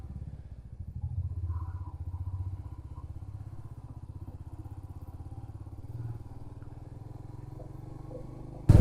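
A motorcycle rides through the early morning on the way to Trimbakeshwar in Maharashtra, its engine giving a steady low rhythmic thrum at moderate level with slight swells and a bump at the end.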